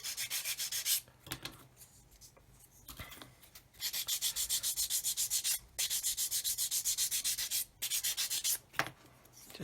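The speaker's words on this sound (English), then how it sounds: "And sand the round profile onto it." Sanding the round profile onto the rudder of a 1/32 scale Kitty Hawk OV-10 Bronco model: rapid rhythmic back-and-forth rasping strokes in several bursts, separated by short pauses, close and alone.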